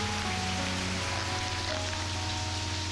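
Steady rain falls on a surface, a constant dense patter heard alone and fairly close, with faint low tones from background music underneath.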